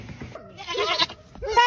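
A few short, high bleats from young goats close by, mixed with a person's voice talking over them.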